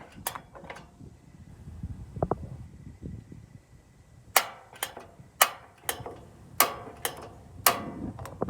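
Propane griddle on an RV quick-disconnect line, with quiet rumbling at first, then a series of sharp igniter clicks spaced about half a second apart as the burner tries to light, close and fairly loud.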